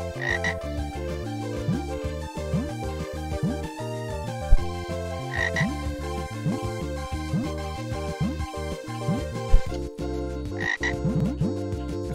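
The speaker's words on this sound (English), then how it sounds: "now we're trying to kill frogs." Cartoonish frog croaks from the I'll Be Brave, Tomorrow video game, repeated in an irregular rhythm over steady, busy game music.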